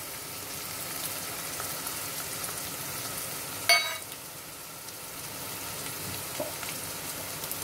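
A ground paste of ginger, garlic, green chili and curry leaves sizzles steadily in hot oil on a high flame for pav bhaji, with one brief clatter of a utensil partway through and no talking.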